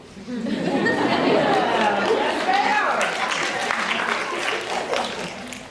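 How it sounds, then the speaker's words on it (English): Audience at a Vagina Monologues stage performance applauding in a sustained wash of clapping, with loud crowd chatter and scattered laughter mixed in throughout. "Y'all can keep clapping."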